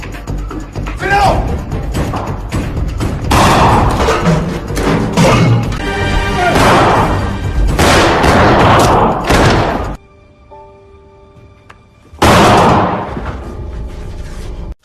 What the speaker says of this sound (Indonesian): sampai akhirnya baku tembak terjadi